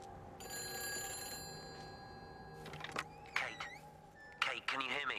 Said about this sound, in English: Oh, I think I hear a phone over here somewhere.